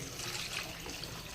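Water poured into a cooking Odia-style fish curry, a brief continuous splashing pour heard close and alone.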